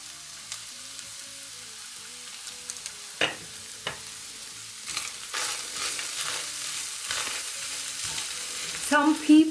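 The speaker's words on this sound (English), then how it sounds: "Now mix all the masalas, all the spices in the beef pan." Spices being mixed into beef in a frying pan: a faint sizzle with sporadic clicks and scrapes of a utensil, growing busier toward the end with a few louder knocks, close and alone.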